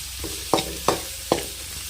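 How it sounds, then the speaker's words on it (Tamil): Eggplant pieces fry in oil with salt and turmeric for vangi bath, a constant sizzle punctuated by three sharp, evenly spaced stirring scrapes of a spoon in the pan. "கத்திரிக்காய் ஆயிலே ஒரு 5 நிமிஷம் நல்லா வதங்கட்டும்"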